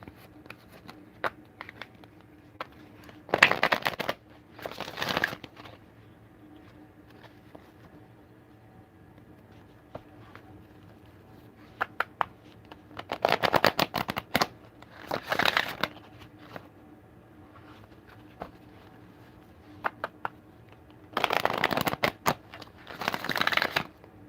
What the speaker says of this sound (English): We're gonna shuffle this shit again.